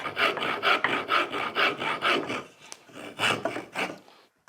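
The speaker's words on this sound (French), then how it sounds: "ça sera à la râpe que la pièce va être sculptée" Rhythmic rasping strokes of a rasp shaping a wooden sculpture, about a dozen steady back-and-forth passes, close and loud, with a brief pause near the end.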